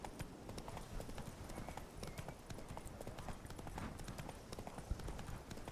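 Horse hooves clip-clop in a fast, steady rhythm as a mount is ridden in The Witcher 3, the hoofbeats fairly faint and continuous with a trace of background sound.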